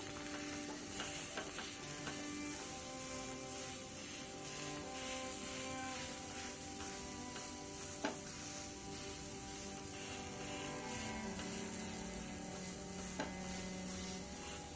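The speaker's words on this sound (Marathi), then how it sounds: "दुसऱ्या बाजूने उत्तप्पा भाजून घेऊयात" A rava uttapam fries on a hot pan with a steady, even sizzle throughout, broken by a few faint clicks, with no talking.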